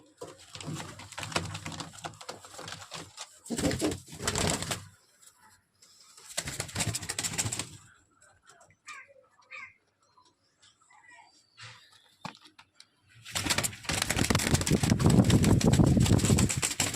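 A Laldom pigeon breeding pair coos in bursts, near and moderately loud, with quiet gaps between the calls.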